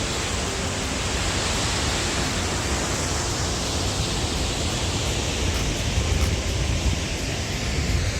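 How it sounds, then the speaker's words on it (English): The twin Cane Creek Falls waterfalls pour with a steady, full-bodied rushing roar, loud and unbroken from start to finish, with no voices. "Two beautiful waterfalls right here. It's called Cane Creek Falls."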